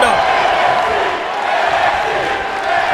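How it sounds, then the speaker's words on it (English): Arena crowd roaring and cheering throughout a WWE 2K20 NXT wrestling match, a steady dense wash of noise with a commentator's voice talking over it. "The crowd is getting into this match."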